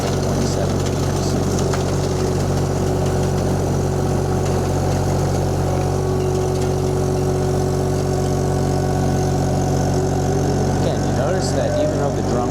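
VMENG 25HP mulcher with a 1.7-liter engine running steadily, a loud continuous low rumble and hum that hardly varies, with voices mixed in beneath it.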